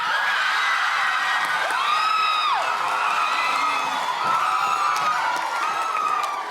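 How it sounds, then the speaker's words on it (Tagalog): A studio audience at a TV song game show shouts, whoops and cheers continuously, with high excited voices rising and falling over a loud crowd roar. "Sumisigaw sila eh."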